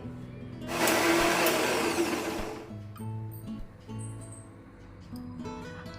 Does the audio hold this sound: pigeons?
no